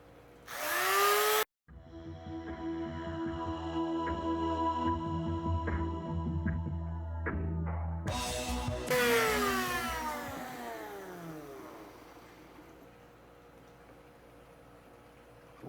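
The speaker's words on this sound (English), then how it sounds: "we got a little rotary tool with a sanding drum on it" A small Dremel rotary tool fitted with a sanding drum grinds along brass edges, high-pitched motor whine spinning up and winding down in bursts, with rasping contact as the drum bites the metal; close and loud, no voices.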